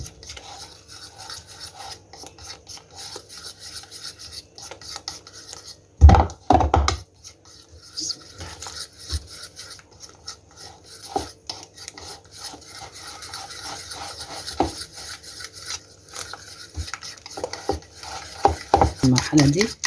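A spoon or whisk beats cauliflower frying batter with water in a bowl, giving scraping, clinking strokes with brief louder knocks, close and steady, alongside some talking.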